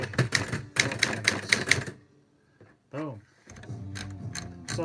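Typewriter keys clack in a quick run of sharp, close mechanical strikes. After a pause, brief voiced sounds and more clattering follow.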